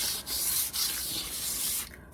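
Sandpaper rubbing across an old wooden door, a close, steady scratchy hiss in a few strokes with short breaks between them.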